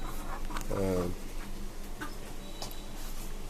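Chickens in a farm coop give a short, clear cluck, with fainter rustling and scattered small sounds around it.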